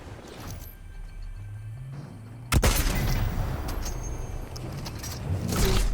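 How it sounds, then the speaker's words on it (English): Gunfire in a Fortnite Zero Build squads match, a loud burst of shots erupting midway and continuing as dense, close crackling fire with rumbling game ambience underneath. "So I'm starting to try to shoot straight up on them"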